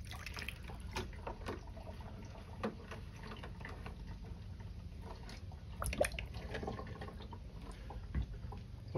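Water trickles down a camper composting toilet past a ping pong ball check valve, giving faint, soft dripping and gurgling with scattered small ticks and splashes, close by and without talk.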